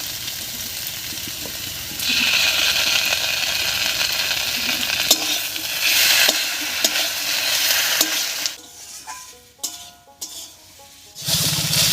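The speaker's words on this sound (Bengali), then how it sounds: "সর্ষে বাটাটা দিয়ে একটু নাড়িয়ে নিয়েছি" Cauliflower stems with green chilli and mustard paste are stirred in a hot pan, with steady sizzling and scraping from a spoon. The frying grows louder partway through, then breaks into short intermittent clatters near the end.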